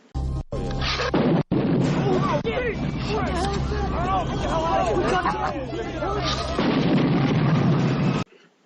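Police cars blow up outside a police station in the 1985 action film The Park is Mine: two sharp booming blasts open, followed by a loud, sustained crowd hubbub and crashing debris.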